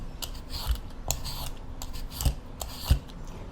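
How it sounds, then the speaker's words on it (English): Vegetable peeler scraping the fibrous skin off a taro root, a series of short rasping strokes with a few sharper scrapes standing out, close and fairly quiet with no talking. "Then peel off the skin with a vegetable peeler."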